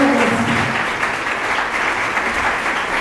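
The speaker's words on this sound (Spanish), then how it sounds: "Fuerte el aplauso para los jóvenes." Loud, dense applause from a book-fair presentation audience, steady sustained clapping filling the whole stretch without pause.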